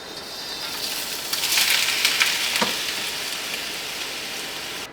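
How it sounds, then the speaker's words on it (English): Shrimp hitting a hot wok sizzle loudly in a steady, hissing fry that swells briefly, with no voices. "I'm going to go ahead and add my shrimp into the wok"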